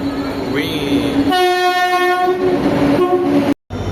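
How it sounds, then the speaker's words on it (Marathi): Janshatabdi Express at Chhatrapati Shivaji Maharaj Terminus, a loud, close rumble of the passing train topped by a long, sustained horn blast of several seconds, with a person talking under the noise. "Chhatrapati Shivaji Maharaj terminal Janshatabdi express. एवढा आवाज."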